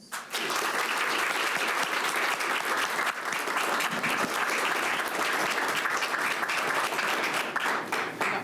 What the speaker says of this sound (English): please join me in giving her a round of applause